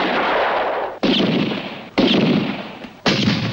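Heavy gunshots boom in a western film shootout, four loud blasts spaced roughly a second apart, each followed by a long rumbling echo, with no voices heard.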